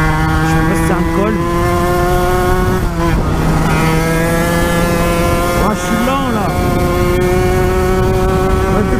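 Aprilia RS4 motorcycle ridden hard along a mountain pass, its engine loud and close with rising and falling revs through repeated gear changes over about nine seconds, and no clear talking.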